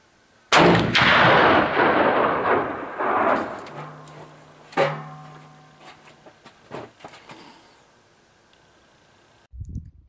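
A single loud shot from a CVA Elk Horn Pro Mag muzzleloader booms and rolls out across an outdoor range, followed by a fading echo and scattered small noises before quiet.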